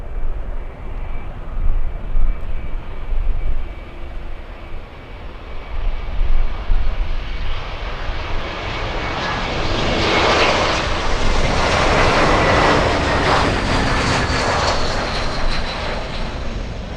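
An airliner in Stand Up To Cancer livery flies past at Miami International Airport, its engine roar building from a distant rumble to a loud, close, hissing peak before easing off.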